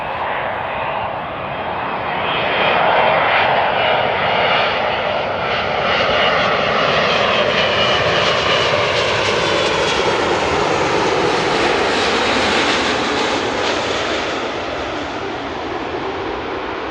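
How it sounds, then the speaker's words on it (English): A Boeing 777 arriving at Amsterdam Airport in the early morning gives off a broad, continuous jet roar that swells over the first few seconds and holds steady and loud throughout, with no voices. "enjoy the 777 and the probably very loud vortices"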